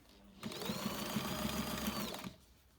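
A sewing machine stitches fabric for a bag, running in one steady, rapid burst of even needle strokes for about two seconds before stopping, close and clear with no talk over it.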